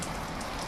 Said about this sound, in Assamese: এতিয়া 3টামান বজাৰ পৰা বৰষুণ দিছে।